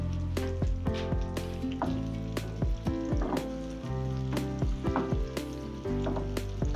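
Stuffed green chillies fry in oil for a daal tadka, a loud steady sizzle with crackles and pops, heard close up.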